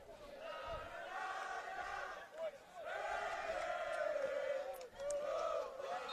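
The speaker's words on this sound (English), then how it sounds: "Harry's given quite a send-off from the away crowd there." An away crowd at a football match jeering a sent-off player, rising waves of loud, sustained mass voices with a short dip midway, heard alongside talk.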